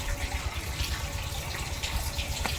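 Water flows and trickles in a steady, close gush during lambanog distilling. Cooling water runs over the still, with a continuous splashing wash and no voices.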